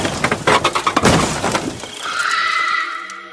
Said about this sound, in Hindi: और बहुत तेज लिफ्ट के टकराने की आवाज आती है।